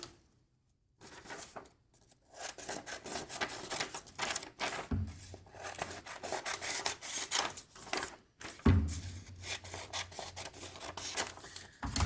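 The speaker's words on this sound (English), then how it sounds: "it's too big for my notebook, so I'm going to do a quick trim." Scissors trim a sheet of paper for a science notebook, a close run of dry, crisp rasping cuts after a brief silent start, with no talking.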